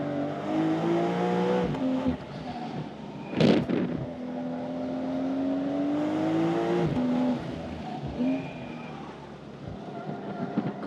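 A Porsche 992.2 Carrera with PDK gearbox laps a race track, its engine note rising and falling through upshifts and revs, with a sharp burst partway through, steady and fairly close throughout.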